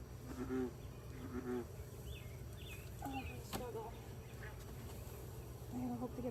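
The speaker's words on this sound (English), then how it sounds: "get all these bees off this side because no bees should be on this side." Honey bees buzz faintly around a beehive being worked by new beekeepers, a soft, steady drone with occasional sharper insect passes and brief distant voices in the background.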